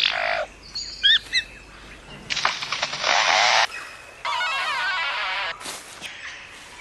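A lyrebird mimics a chainsaw in a string of mechanical calls, including buzzing bursts resembling a chainsaw starting and revving, alternating with chirps and clicks in short segments.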